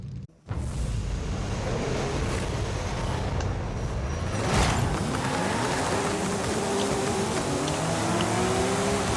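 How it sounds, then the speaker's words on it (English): A Porsche 935 race car with rear-wheel drive launches hard in Forza Horizon 5. After a brief pause its engine roars in loudly and holds a sustained, rising snarl as it accelerates away. "Really good launch for the rear-wheel drive."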